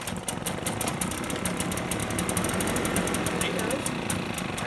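A Husqvarna 150BT backpack blower's small two-stroke engine runs with a rapid, buzzing rattle, loud and close throughout, while a person speaks over it.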